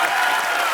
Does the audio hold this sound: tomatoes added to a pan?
no